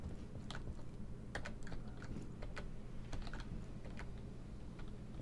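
Computer keyboard keys clicked during a Star Citizen gaming session, a loose run of sharp individual taps spread over a steady low hum, close and fairly quiet.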